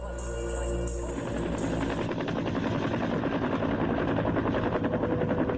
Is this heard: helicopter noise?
yes